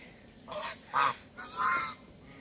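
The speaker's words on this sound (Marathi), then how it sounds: "तर हे इथे राजहंस" Nasal honking calls from swans, three drawn-out honks in a row, fairly close, with no talking.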